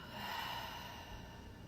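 A slow, soft exhale during a guided yoga breathing exercise, a faint breathy rush of air that stays steady for nearly two seconds in a quiet room.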